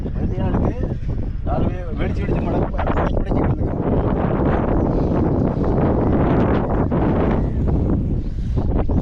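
Strong morning wind roars and buffets the microphone continuously, loud and rumbling, with voices faintly audible beneath the gusts, while fishing for milkfish in cold weather.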